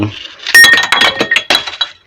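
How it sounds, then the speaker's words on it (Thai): Pieces of charcoal made from burnt pallet wood, such as pine, clink and rattle against each other up close. The bright, glassy clinks crowd together and sound like glass breaking. "เหมือนแก้วแตกเลยครับนะ อันนี้คือ คุณสมบัติของไม้พาเลต"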